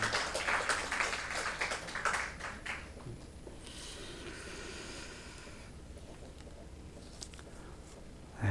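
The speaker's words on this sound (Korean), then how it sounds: "우리 박수로 한번 축복하겠습니다" Applause from a church congregation at a Sunday morning service, a steady patter of many hands that thins out midway and carries on faintly.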